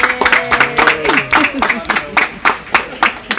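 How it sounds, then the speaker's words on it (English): Clapping and cheering at a children's birthday party for a six-year-old, with sharp, regular hand claps repeating steadily throughout, close and loud, alongside excited voices. "Can I get a round of applause?"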